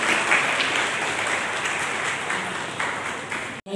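Loud, sustained applause from an audience at a social-service foundation event in Chembur, steady clapping filling the room for several seconds before cutting off abruptly.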